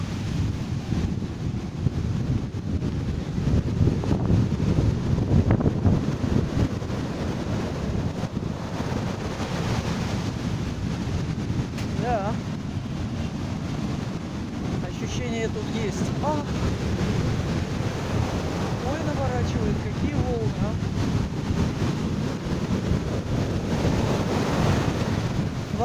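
Stormy sea surf breaks and rolls onto a beach in Nha Trang, Vietnam, with loud, constant wind buffeting the microphone throughout. The roar of the waves is continuous and close, and a few faint voices come through underneath.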